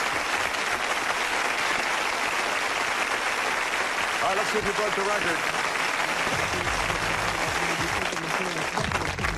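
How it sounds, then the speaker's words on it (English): Audience applause for the world's fastest court reporter during a Guinness record presentation, a steady dense clapping throughout, with a voice speaking over it near the end. "How about a round of applause for the world's fastest court reporter?"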